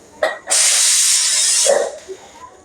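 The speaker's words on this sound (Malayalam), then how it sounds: "കണവ ഇപ്പം വിസിലങ്ങ് പോവും" A pressure cooker cooking squid lets out one strong steam whistle, a loud rushing hiss of about a second after a short puff, then fades with faint clinks afterward.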